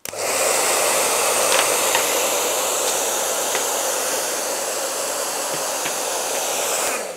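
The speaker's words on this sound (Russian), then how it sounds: "сейчас я возьму фен, включу его и направлю на деревянные бруски" Steady loud whooshing of a hair dryer blowing air at wooden blocks on a table, continuous and unbroken for several seconds, with faint small clicks and knocks.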